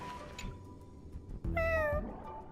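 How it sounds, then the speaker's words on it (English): A cartoonish cat meows once in the Honkai: Star Rail video game, a clear, rising-and-falling call over a low background hum and game ambience. "You're a cat."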